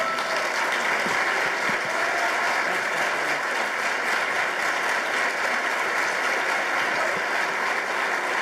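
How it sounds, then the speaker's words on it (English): A standing audience gives a dense, sustained ovation of applause for a retiring university president brought onstage at a 2014 student keynote event, with the clapping loud and steady throughout and no speech over it. "applaud him as we bring him to the stage"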